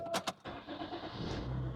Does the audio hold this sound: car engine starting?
yes